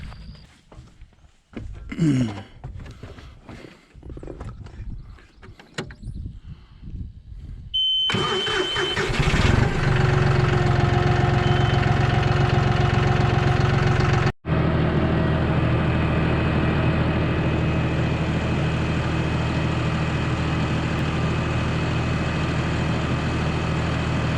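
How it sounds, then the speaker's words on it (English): A tractor engine cranks and starts after a few seconds of brief voices and clatter, then runs at a steady, close idle with one momentary break. "let's try the tractor"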